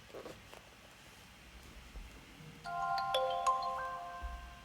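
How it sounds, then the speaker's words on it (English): Phone ringtone in the Duskwood video game: a quiet electronic melody of several clear tones that starts partway through and plays alone over faint background hiss. "It's a crap ringtone."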